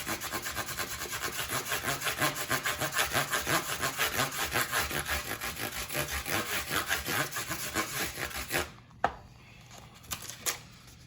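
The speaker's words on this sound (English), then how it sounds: "I'm sanding lightly, not putting pressure on it." Frets on an electric guitar being lightly sanded by hand, a steady back-and-forth rasping rhythm of fine strokes at close range for about nine seconds before stopping, followed by a couple of soft knocks.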